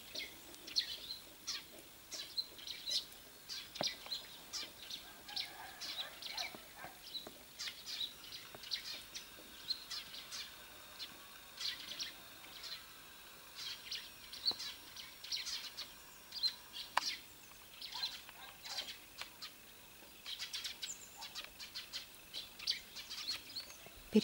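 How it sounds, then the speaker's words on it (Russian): Small birds chirp and chatter outdoors in a yard, with frequent short high calls scattered across the whole stretch, fairly faint and mid-distance, no talking. "Переговариваются птички."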